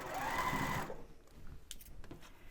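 Sewing machine stitching a shirt to its collar band, a loud close whirring run of stitching for under a second, then stopping, followed by faint handling clicks and rustle.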